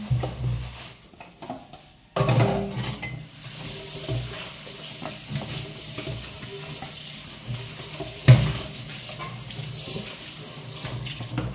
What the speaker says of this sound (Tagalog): hugas mo na tayo ng plato. Daming hugasan.